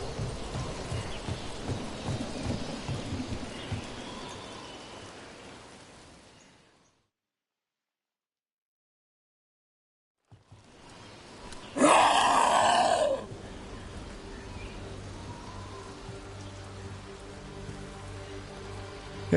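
Steady rain in the fantasy game Dragon Age: The Veilguard hisses evenly, drops to total silence for a few seconds, then returns with a brief louder burst before settling back into the soft downpour.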